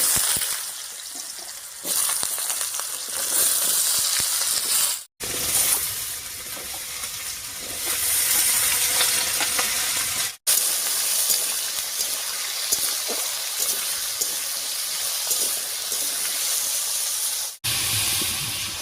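Potatoes go into hot oil tempered with nigella seeds and dried red chilli, setting off a loud, steady hiss and sizzle that continues with a few brief breaks.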